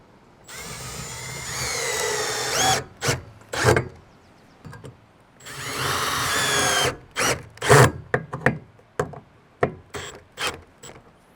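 Power drill driving screws into a wooden rail fastened to a 2x4, heard in several bursts: two long whirring runs and a series of short, sharp trigger pulls, close and loud with no talking.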